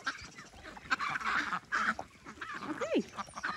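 A Welsh Harlequin duck lets out a string of harsh, close calls while another duck splashes in water nearby, with no talking.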